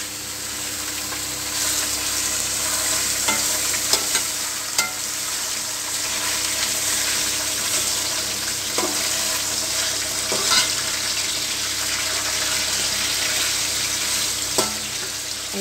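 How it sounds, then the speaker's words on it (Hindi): Thin slices of beef pasanday fry with golden onions in a hot pan, giving a loud, steady sizzle with occasional soft scrapes from stirring. "प्याज थोड़ी सी गोल्डन हो गई है, हम चूल्हा हल्का कर देंगे और इसमें हम अपने पसंदे डाल देंगे।"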